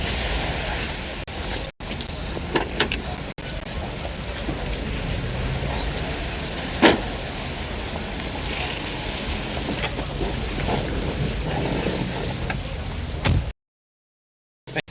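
Steady rain pouring down, a continuous hiss with scattered spatters and knocks, cutting out abruptly just before the end.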